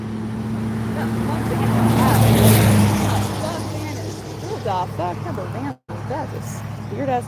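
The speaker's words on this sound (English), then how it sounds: "That was like a supercharged van. Fuck, that was loud, man." A loud supercharged van roars past outdoors, its engine rising and then fading over several seconds. Someone talks over the tail end of the pass.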